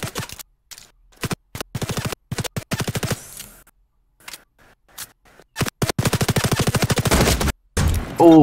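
Rapid bursts of gunfire in Fortnite, sharp cracks in clusters with short silent gaps between them, loud and close, with no talking over them.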